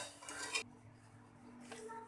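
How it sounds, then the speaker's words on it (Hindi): Chicken pulao rice being served from a pot onto a dish: two bursts of metallic spoon-on-pot scraping and clinking, separated by a quiet pause, close and fairly soft. "अब हम इन्हें डिश आउट करेंगे।"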